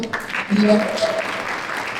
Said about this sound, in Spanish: para la que pido un fuerte aplauso